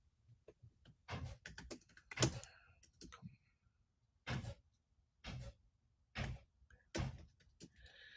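Typing on a computer keyboard comes through as scattered bursts of clicks and clacks, close by and fairly quiet, separated by short pauses.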